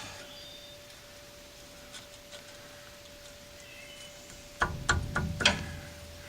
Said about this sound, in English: I like to smack on them to break them loose instead of just trying to crank on them